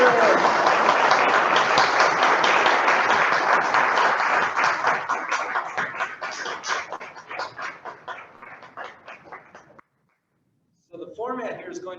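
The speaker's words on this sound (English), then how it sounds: "Please give a warm round of applause to Daniel" Loud audience applause and clapping at a town hall meeting that gradually thins out and fades, then a brief pause before scattered sounds resume.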